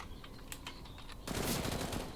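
Gunfire in a competitive shooter video game: a few sharp distant shots, then a sudden loud burst of rapid automatic fire.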